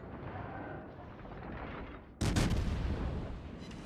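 An American cruiser in World of Warships fires shells with a sudden loud boom. The blast rolls into a long rumbling roar over constant ocean and engine ambience, with no speech.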